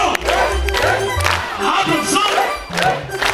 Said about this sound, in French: Applaudissons. Applaudissons.